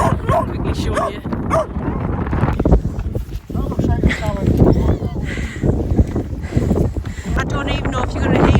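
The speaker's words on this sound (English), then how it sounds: "I don't even know if you're going to hear us because it's so windy and rainy up here." Gusty wind and rain buffet the microphone on a wet, windy Lake District hilltop in December, a constant rumbling roar running throughout, with people talking and a dog barking amid the blustery noise.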